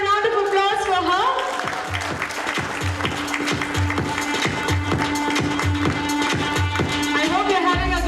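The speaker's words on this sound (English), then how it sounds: "Let's have a round of applause for her." An audience at a hospital launch event applauds a radio host, the clapping blending into loud, pulsing music with a steady beat that dominates most of the stretch.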